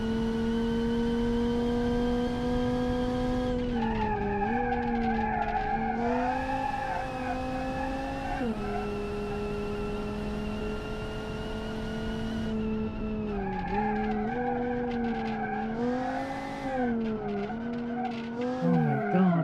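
Drift car sliding through a long skid, tires squealing in sustained wavering pitch that dips and rises with each gear change and slide, loud and close with no talk.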